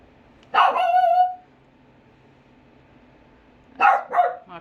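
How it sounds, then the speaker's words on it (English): A puppy barks at the dog next door in two bursts: a drawn-out yelping bark, then a pause of a few seconds, then a quick pair of sharper barks, all close and loud against a quiet background. "My puppy barking at next door's dog."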